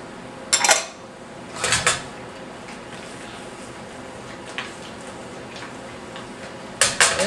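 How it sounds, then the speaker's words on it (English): A spoon clanks against a pan while toasted almonds and raisins are mixed into banana foster sauce, with a few sharp metallic clinks spaced over several seconds and a quiet background between them. "we're gonna simply add the toasted almonds, mix it with the sauce, and the raisins"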